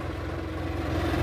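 A John Deere 55E tractor, a 55 hp machine pulling a three-shank subsoiler in a field, runs with a steady mid-pitched engine drone close by.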